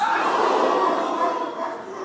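A crowd at a PDP party executive launch rally in Trinidad shouts back in unison, a loud sustained mass of voices filling the space without a break.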